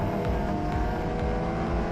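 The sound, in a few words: race car at speed on the track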